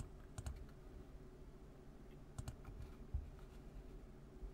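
A computer keyboard is pressed in a few quick clusters of soft, close key taps and clicks over a low room hum, used to select and save images.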